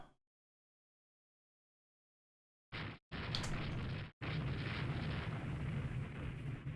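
Warship broadside gunfire in the naval strategy game Rule the Waves 3: after a silent opening, heavy booming salvos erupt, a short burst then a long sustained rumble of overlapping blasts, loud and continuous.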